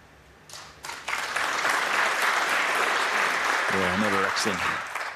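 Snooker crowd bursts into sustained applause after a safety shot, the clapping swelling quickly and holding steady, with someone commentator speaking briefly near the end.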